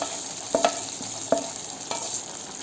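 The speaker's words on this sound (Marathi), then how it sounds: "आता इथला गॅस बंद करते आणि आपल्याला हा तडका त्याच्यामध्ये वरून ओतायचा आहे." Hot tadka poured over paneer do pyaza with onions sizzles in a steady hiss, broken by a few sharp crackles and spoon clinks near the start and middle.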